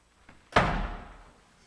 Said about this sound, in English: Then God shut the door.